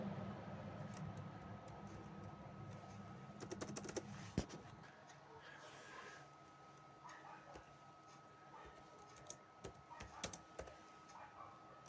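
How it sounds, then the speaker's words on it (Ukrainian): Keys clicking on an Acer Aspire V3-572G laptop keyboard, a quick burst of close, crisp taps followed by scattered single keystrokes against a quiet room. "Наприклад, пишу назву мультфільму."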